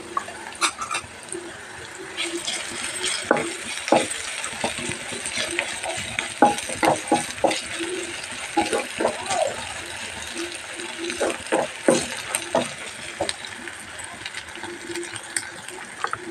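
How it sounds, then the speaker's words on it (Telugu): Onions with ginger garlic paste fry in a pan for mutton paya, a soft continuous sizzle broken by repeated stirring clicks and scrapes, close and moderately quiet, with someone speaking over it. "ఉల్లిపాయలు వేగిన తర్వాత 1 స్పూన్ అల్లం వెల్లుల్లి పేస్ట్ వేస్తున్నాను."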